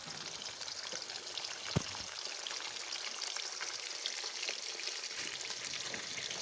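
Pieces of katla fish frying in oil in a pan, a steady close sizzle and crackle with a sharp pop partway through.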